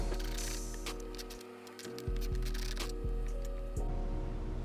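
A socket ratchet tightens a bolt on a carbon fiber mud guard on a Lexus RC F, giving a few separate close clicks over a steady humming background.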